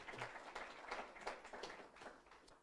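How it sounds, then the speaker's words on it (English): Faint, distant applause from an audience for the participants at a product forge presentation event: soft clapping that rises and falls in waves, with no voices over it. "So a big round of applause to all our participants"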